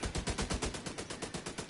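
Rapid automatic turret gunfire in a video game, a steady rattling burst of evenly spaced shots repeating throughout at moderate volume with no talk over it.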